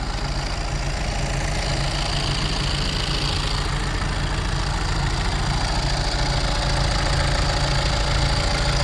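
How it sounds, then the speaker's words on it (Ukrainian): A 2019 MAN TGE refrigerator van's diesel engine idles smoothly in a steady, even rhythm, loud and close, with a faint whine above the low chugging. "Моторчик працює ідеально, рівненько. Навіть не скажеш, що то дізельна машина."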